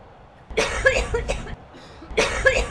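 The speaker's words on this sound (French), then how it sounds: "vous avez le rhume ou la grippe et que vous toussez beaucoup" Two bouts of harsh coughing from a cold or flu, each a quick cluster of hacking coughs, close and loud with a brief pause between.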